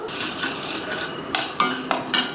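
Fenugreek seeds dry roasted without oil in a pan, stirred with a metal spoon: a close run of scraping strokes and several sharp clinks against the pan, with no talking.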